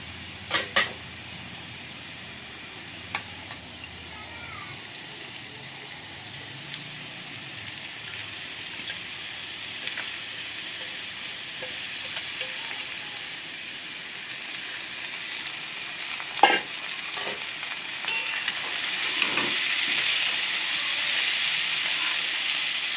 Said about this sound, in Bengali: কড়াইতে চিড়েটা ছেড়ে দেবো